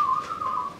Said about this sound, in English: who is whistling behind me